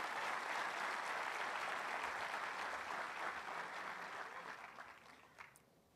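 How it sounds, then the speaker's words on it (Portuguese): A congregation applauds at a church Bible seminar, with sustained dense clapping from a crowd that holds steady, then thins and fades out over the last seconds. "Vamos aplaudir o Senhor por isso?"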